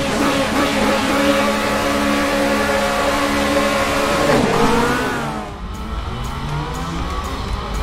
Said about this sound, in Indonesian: jadi si Rama lagi pakai Ferrari 360